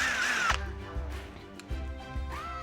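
A cordless power drill drives screws to mount a Frigidaire ice maker onto the side of a freezer, with a rising whine followed by short bursts of motor buzz and pauses between them.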